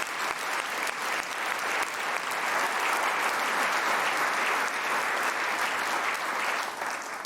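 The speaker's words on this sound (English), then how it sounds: "Let's give them a round of applause." A keynote audience applauds hotel staff with sustained, dense, loud clapping from a large crowd, steady throughout without speech.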